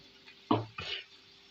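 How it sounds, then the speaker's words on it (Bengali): Rinse water from a mixer bowl is poured into a cooking pan in two brief, close splashes about a quarter second apart, in an otherwise quiet kitchen. "এতে আমি ওই মিক্সারের বাটিটা ধুয়ে একটু জল দিয়ে দিলাম"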